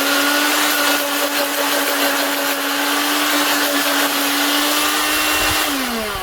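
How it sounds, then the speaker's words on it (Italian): A blender grinds dried chilli peppers for a Sicilian preserve, its motor whining loud and steady for several seconds before the pitch drops as it begins to wind down. "ora io lo vado a passare nel frullatore e poi riprendiamo il video"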